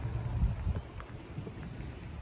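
Heavy rain pours down in a thunderstorm, a steady low rumbling wash of water with faint patters on top, fairly distant and continuous throughout.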